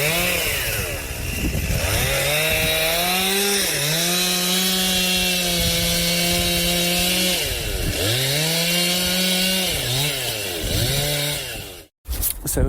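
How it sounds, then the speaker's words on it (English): A chainsaw roars steadily close by, its engine pitch dipping repeatedly as the blade cuts big holes into a tree for bat conservation, then cutting out briefly near the end. "So here we are, sawing big holes in trees."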